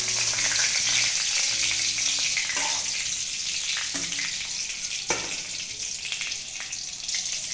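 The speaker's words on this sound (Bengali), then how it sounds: "ফোড়নে দিয়ে দিলাম শুকনো লঙ্কা আর তেজপাতা।" Dried red chillies and bay leaves fry in hot oil as a tempering, giving a steady, close sizzle that holds at an even level throughout with faint stirring clatter.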